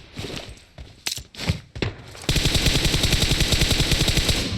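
Rapid automatic gunfire in the video game PUBG Mobile, a few scattered single shots first, then a loud, sustained burst of fire until the end, with no talk.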